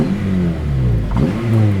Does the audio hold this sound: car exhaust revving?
yes